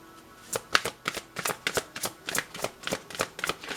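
Tarot cards being shuffled by hand, a steady run of crisp riffling slaps and flicks, close and fairly quiet, with no talking.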